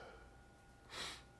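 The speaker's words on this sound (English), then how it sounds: "everyone's wondering why I'm sniffling and sneezing" A person with a cold sniffles once, a short breathy burst standing out against quiet room tone.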